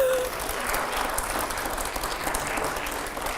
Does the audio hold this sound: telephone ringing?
no